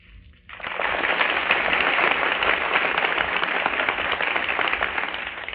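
A 1938 NBC radio studio audience bursts into sustained, dense applause that starts suddenly after a brief quiet moment and stays loud and steady throughout.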